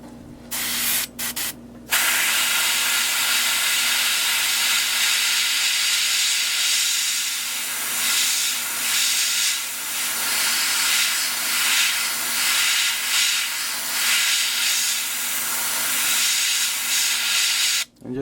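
An airbrush sprays paint over a stencil onto a fishing lure, producing a steady, close, continuous hiss with a few short bursts at the start, then a long unbroken spray that ends abruptly.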